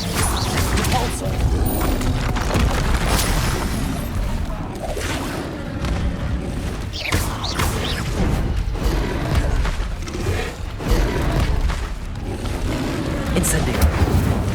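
Repulsor spell cast in the Hogwarts Legacy video game, heard as repeated loud impact blasts, crashes and whooshes within dense ongoing combat noise, with no talking.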